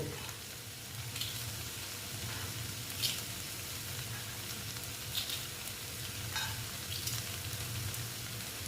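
Data saag greens fry in a pan with broken lentil dumplings, a steady close sizzle with occasional soft scrapes of stirring, no talking.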